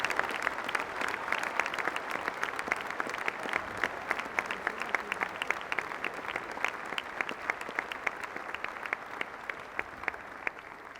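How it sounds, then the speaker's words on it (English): Applause from a graduation ceremony audience for a staff choir and other choirs, a steady, dense patter of many hands clapping that carries on evenly for the whole stretch without any voices. "Just have another round of applause for I think it was the staff choir and various choirs."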